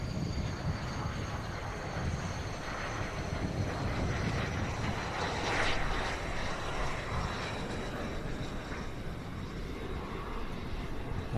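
A Lockheed P-3 aircraft at an air show arrivals day, its engine noise a steady, moderately distant drone that swells slightly near the middle and holds throughout.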